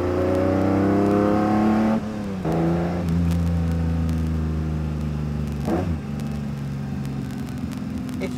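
A Ferrari Testarossa engine revs loud and close, holding a strong steady roar that dips and climbs again with gear changes around two and six seconds, ending in a sustained lower drone.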